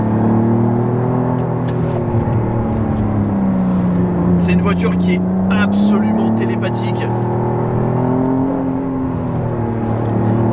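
A McLaren Artura hybrid drives in sport mode with a steady, loud engine drone whose pitch rises and falls gently, continuous under someone talking inside the cabin.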